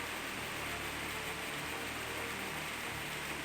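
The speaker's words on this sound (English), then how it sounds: "enjoy the rain falling on his head" Steady rain pours down in Castlevania: Symphony of the Night, a constant dense hiss of falling water that fills the whole stretch with no gaps or talk.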